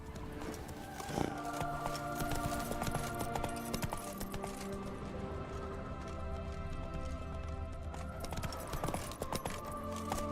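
A horse in The Witcher 3 video game runs with steady, rapid hoofbeats throughout, loud and continuous against a background of game music.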